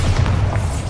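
Bombarda spell blast in Hogwarts Legacy, a short loud booming burst with low rumbling thumps lasting about a second.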